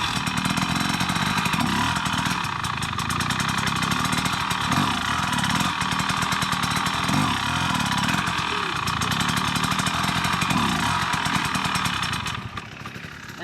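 An enduro motorcycle engine runs loud and close during hard enduro riding training, revving and throbbing continuously before dropping off sharply at the very end.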